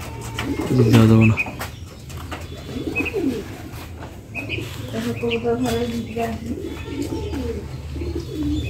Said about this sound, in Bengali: দুইটা বড় বড় দাবলা কবুতর